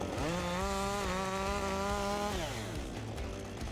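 A chainsaw cuts into a big pine top, run by a first-time user. The engine whines at high revs up close, then drops as the throttle eases off near the end.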